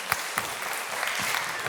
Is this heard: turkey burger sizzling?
no